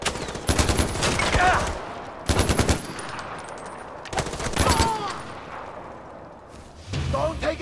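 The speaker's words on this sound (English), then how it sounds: "I'm on the machine gun!" Mounted machine gun in the shooter Far Cry 4 fires long rapid bursts in three loud stretches separated by brief pauses, with excited voices talking over and between the bursts.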